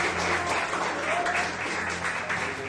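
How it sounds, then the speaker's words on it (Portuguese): Church congregation applauding, a moderately loud, even spread of clapping that continues throughout, with a sustained musical tone underneath and a faint voice or two mixed in. "aplaude a Deus, bem alegre para Jesus"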